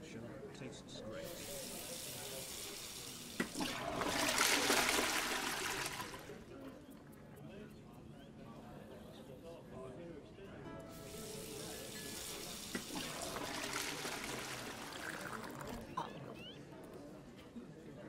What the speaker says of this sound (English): That tap over there will pour you the finest virtual beer man ever